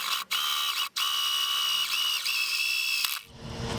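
A power drill drives screws into a downhill longboard deck, a steady high whine running nearly continuously with two brief stops and cutting out near the end.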